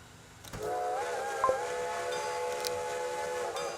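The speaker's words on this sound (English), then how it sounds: "once this express train pulls in" An express train in the video game Transport Fever 2 sounds a sustained, multi-tone whistle over a low rolling rumble, starting after a soft lead-in and holding for about three seconds with a few light clanks.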